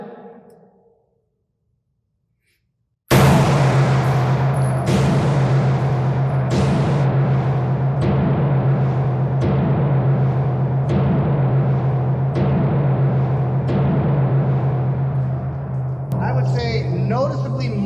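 Smith & Wesson EZ pistols, a 9mm and a .380 ACP, fired at a shooting range: about seven sharp shots spaced roughly a second apart over a steady loud droning background, with a short clattering burst near the end.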